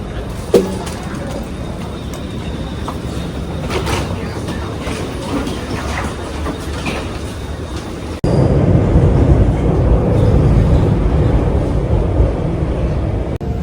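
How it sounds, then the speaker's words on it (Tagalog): A Singapore MRT train rumbles steadily, then a louder, heavier roar of wheels and motor takes over partway through as it arrives, with faint voices in the background. "The train is here."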